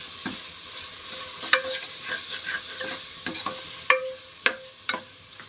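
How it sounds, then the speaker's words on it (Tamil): Food frying in oil in a pan while being stirred, in a home-style Tamil cooking setting: a steady crackling sizzle broken by sharp scraping clicks from the stirring utensil, close and alone with no talk. "இன்னும் கொஞ்சம் எண்ணெய் ஆட் பண்ணிக்கலாம். ஏன்னா நல்லா ஃப்ரை ஆகட்டும் மக்களே,"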